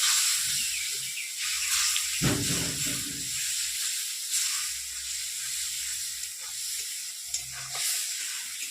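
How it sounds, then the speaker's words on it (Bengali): A spice masala with ground tomato fries in a pan, giving a bright, steady hiss and sizzle, with a brief louder splutter near the start and faint low thuds beneath. "বেটে রাখা টমেটোটা দিয়ে দিচ্ছি ভালো করে মশলাটা ভেজে নেবো"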